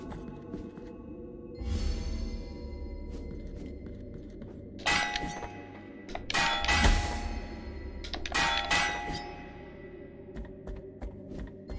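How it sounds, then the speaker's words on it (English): A giant bell in the video game Blasphemous rings out in several heavy metallic strikes spaced over a few seconds, each leaving a ringing decay. "Hondo, the giant bell."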